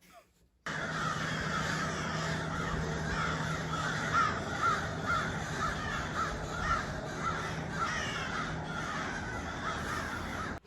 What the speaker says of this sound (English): crows are going off above me